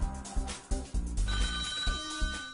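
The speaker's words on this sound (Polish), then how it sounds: "Jest telefon." A telephone rings on a TV game show, its bell chiming over busy studio music with thumping beats, the ring tones settling into a sustained trill toward the end.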